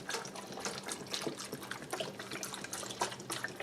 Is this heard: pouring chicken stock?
yes